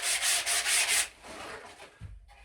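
Hand sanding of the rough edges of wooden narrowboat hatches, with rhythmic back-and-forth strokes, loud and close at first and then softer and lighter, ending in a brief knock.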